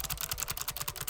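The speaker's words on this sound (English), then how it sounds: "And then we have my Logitech 915 TKL that I use mainly now." Fast, even typing on a Logitech 915 TKL clicky mechanical keyboard, crisp clacky keystrokes in a quick rhythm, up close and alone.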